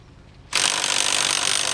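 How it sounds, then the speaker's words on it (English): A DeWalt impact gun starts abruptly and runs in a loud continuous buzzing whir as it tightens a CV boot clamp on a car, close up after a moment of quiet, with no talking. "My little DeWalt impact gun"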